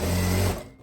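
A sewing machine runs a straight seam on a kimono for about half a second, a steady close motor whir with needle hum that then stops abruptly.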